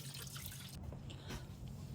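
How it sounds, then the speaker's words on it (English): Coolant dripping from the radiator drain cock of an Infiniti Q50 Red Sport during engine removal, a steady trickling patter of liquid close by, amid low garage background noise. "you'll see how the coolant starts dripping from here"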